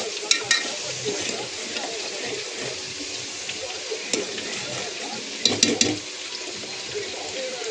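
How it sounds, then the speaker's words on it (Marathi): Green chilli masala paste frying in oil in a pan, a loud, steady sizzle close up with a few stirring scrapes and clinks, no talking. "आणि हे वाटण चांगलं फ्राय करून घ्यायचं एकदम।"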